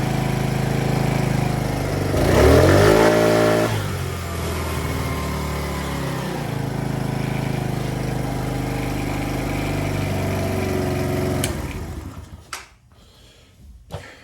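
A Polaris Outlaw 50 ATV with a twist throttle conversion runs steady, then revs up sharply with a rising whine before settling to a fast idle and cutting out near the end.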